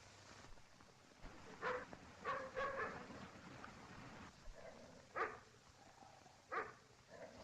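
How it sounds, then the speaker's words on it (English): A dog barks to be let in: several separate bursts of barking and yelping over a quiet indoor background, moderately close and not very loud. "Is that your dog? Yes, why? What's he barking for?"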